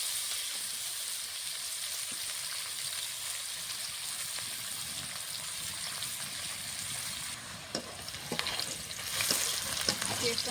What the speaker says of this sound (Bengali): একদম লাল লাল করে ভেজে নিচ্ছি।